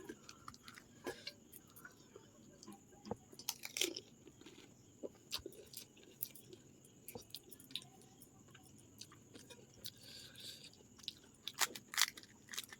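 Crunching bites and chewing of spicy fuchka, close to the mic: scattered crisp cracks and wet munching with irregular rhythm, no talk.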